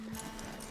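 Horse hooves in the video game Red Dead Redemption 2, a brief faint clip-clop of a few steps.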